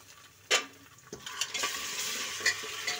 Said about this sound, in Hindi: इसको अब हम प्याज को सॉफ्ट होने तक फ्राई कर लेंगे